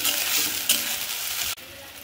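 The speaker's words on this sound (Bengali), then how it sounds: "দেখুন দুধ দিয়ে হালকা করে আমি নেড়ে নিচ্ছি।" Pointed gourd pieces are stirred in milk in a hot pan, a close hiss of simmering with soft scraping and one sharp knock before the sound drops away near the end, no talk.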